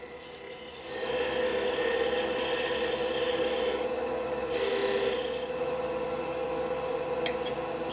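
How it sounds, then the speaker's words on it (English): Parting tool cutting into wood on a lathe while shaping the base of a knob, a steady close rasping scrape over the lathe's constant hum, swelling slightly as the tool bites. "using the parting tool now to sort of figure out the shape of the base of that knob"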